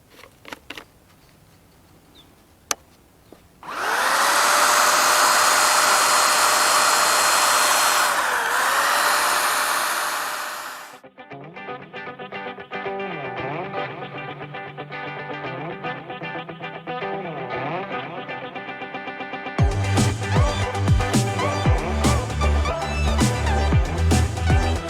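A DeWalt cordless battery-powered HVLP paint sprayer fitted with a 2.5 mm tip runs with a loud, steady airy roar for several seconds, then cuts off and gives way to other steady tonal sound.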